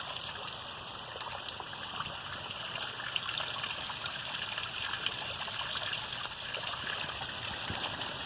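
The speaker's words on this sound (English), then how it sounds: "See the water coming down back there, got me a little waterfall." Rainwater pours down into a washed-out sinkhole cave as a small waterfall, a steady, fairly faint rushing trickle heard alone without any voices.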